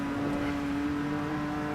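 A race car engine in Rennsport hums quietly at a steady pitch, a faint, smooth drone throughout the short stretch.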